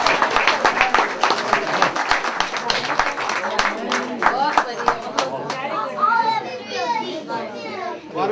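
Scattered clapping rises from a crowd at an outdoor community picnic in Toronto after a poetry recitation, mixed with children's voices and chatter, the claps thinning out partway through as the talk continues.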